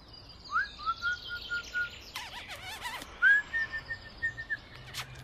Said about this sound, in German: Dass es hier so viele Vögel gibt, finde ich schön.